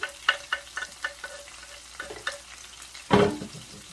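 Onion thrown into a hot pan with chicken: quiet rhythmic spatula ticks over a low fry, then a loud, close burst of sizzling near the end, with no voices.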